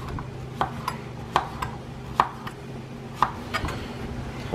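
A knife dices wild ramps on a cutting board in a handful of sharp, irregular taps over a low steady background hum, close by.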